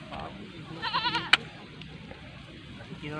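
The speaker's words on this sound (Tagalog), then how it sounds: "unti-unti lumalapit yung kambing sa kanya" A goat bleats as it approaches, wavering calls in a short burst followed by a sharp click, heard outdoors against low background noise.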